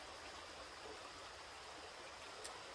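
Steady, faint rush of a stream running over small riffles below a covered bridge, a continuous even wash of water with no voices.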